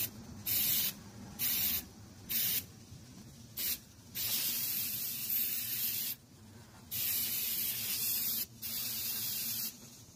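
Repeated bursts of hissing aerosol prep spray on a car hood, close and loud, in short and longer pulses separated by brief pauses.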